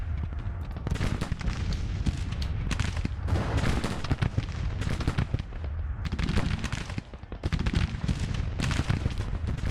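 Massed troops firing rifles in the Grand Tactician Civil War strategy game, a dense, continuous crackle of volleys that rolls on with brief dips and swells, muffled and distant rather than close.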